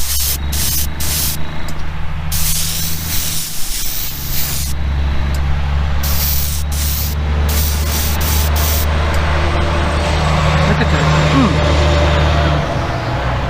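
Airbrush hissing steadily as it sprays paint onto a custom Volkswagen, a continuous close spray with brief bursts and pauses, over a low background hum.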